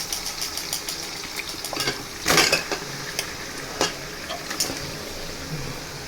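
Chicken pieces dropped into a pot of oil-fried onions for dum biryani, with a burst of sizzling and metal stirring against the pan over steady frying hiss and faint background hum.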